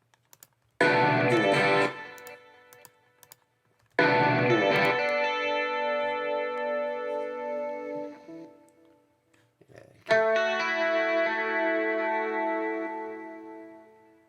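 An electric guitar track, heavily compressed and treated with echo and a harmonizer, plays three loud chord strikes, each ringing out in a long, even, processed sustain with shimmering layered tones before fading.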